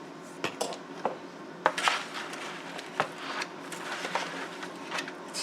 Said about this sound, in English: Stir it around, make sure everything's got a good coating.